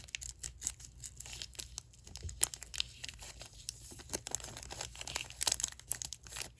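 Plastic packaging from a miniature waffle advent calendar item crinkles and crackles in soft, close, irregular bursts, quiet and intimate with no talking.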